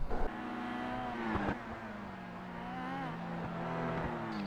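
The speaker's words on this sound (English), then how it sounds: "you can hear he drops it again too early, popping the engine" Kia touring car in the iRacing video game, racing at Bathurst, its engine popping on an early downshift, a droning engine note with sharp crackling bursts near the start and middle while other cars' engines hum along.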